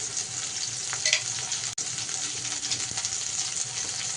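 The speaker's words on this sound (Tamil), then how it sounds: "நல்லா வதக்கிட்டுக்கலாம்" Curry leaves sauté in a hot pan for a crab curry with drumstick leaves, giving a continuous close sizzle and hiss with brief stirring clatters and one short break.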